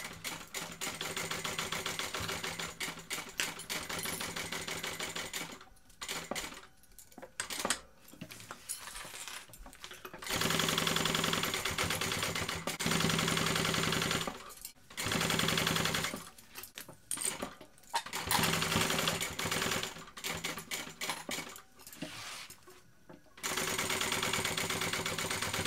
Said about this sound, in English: I want to baste around the lining, around all of it.